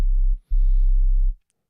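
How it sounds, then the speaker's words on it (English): A clean digital sine-wave sub-bass from an initialized patch in the Ableton Live Subs pack plays as two loud, steady low hums, a short one and then a longer one, separated by a brief gap before silence. "what you're hearing is just a clean digital sine wave"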